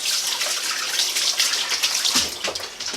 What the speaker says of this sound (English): I'm going to wash my hands off here.